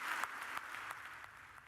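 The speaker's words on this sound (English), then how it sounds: "And that applause that you hear just trailing off there" Applause from the audience at a state governor's Condition of the State address, faint and distant, a soft patter of many hands tapering off over a couple of seconds.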